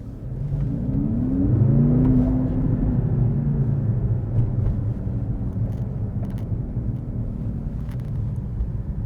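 A 2023 Mercedes C63 AMG accelerating on a night drive, heard as a steady engine drone and road rumble that swells during the first two seconds and then holds a constant level, with no voices.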